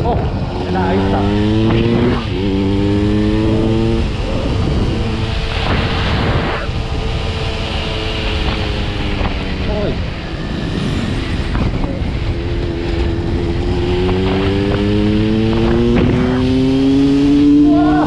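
A Yamaha DT 200 motorcycle engine revs loudly and repeatedly nearby, each rise and fall of pitch sweeping up and back down, with someone talking over the engine throughout.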